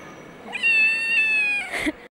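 A cat meows loudly at an international cat show in a sports hall, one long drawn-out call held steady before a brief rougher burst at the end, close and clear against a faint room murmur.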